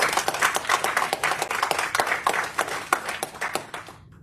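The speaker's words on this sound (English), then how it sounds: "please give yourselves a round of applause for showing up today" A session audience gives itself a round of applause, lively close clapping with distinct individual hand claps in an uneven rhythm, swelling then cutting off abruptly near the end.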